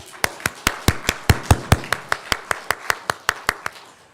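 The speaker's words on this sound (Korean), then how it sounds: "박수." Congregation at a church worship service clapping together in a steady, even rhythm of about eighteen sharp claps, with faint murmuring beneath.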